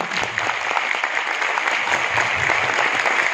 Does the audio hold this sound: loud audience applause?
yes